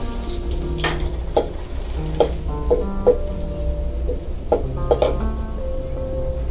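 Garlic sizzles and fries in coconut oil in a pan, a steady loud crackle with a few clinks and stirring scrapes over it.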